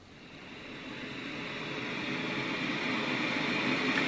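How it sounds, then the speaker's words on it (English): Steady hiss of white noise played by a smart speaker, soft at first and swelling slightly louder, continuous with no other sounds. "Play white noise while you fall asleep."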